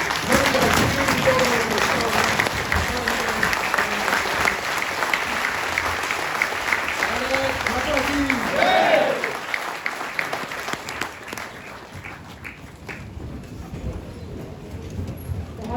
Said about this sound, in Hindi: एक बार मेरा निवेदन है अपने स्थान पर खड़े होकर के तालियां बजा करके